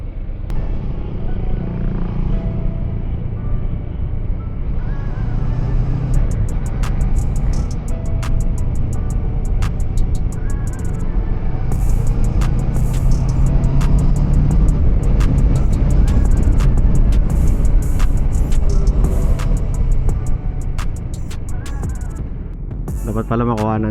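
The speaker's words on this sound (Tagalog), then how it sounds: "Traffic ang SF." Road traffic around a moving Ninja 650 motorcycle near San Fernando, a loud continuous engine rumble and wind roar with scattered sharp clicks and ticks over it.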